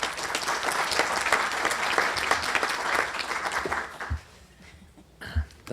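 Steady applause from a luncheon crowd at a civic club forum on healthcare, full and continuous for about four seconds before dying away abruptly into quiet room noise with a couple of thumps.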